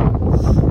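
Strong wind at People's Park in the Sky in Tagaytay buffets the microphone with a dense, low roar that stays loud and steady for the whole brief moment.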